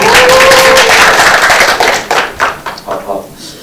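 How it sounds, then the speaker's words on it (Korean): An audience claps to welcome a speaker onto the stage at a regional governance conference session, a dense burst of applause that thins into scattered claps over a few seconds. "벚꽃 기획단 박경희 단장을 박수로 맞아보겠습니다"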